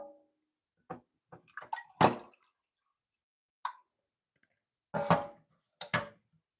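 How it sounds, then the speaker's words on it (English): Water splashing and dripping in scattered bursts as a cold press juicer canister is rinsed out, with irregular splats and pauses, close and moderately loud. "let's get this rinsed out. Get her rinsed out and ready for the next juice."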